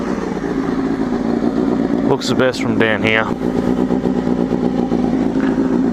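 A four-carburettor motorcycle engine runs loud and close, with a sharp rev rising and falling midway, while someone talks over it.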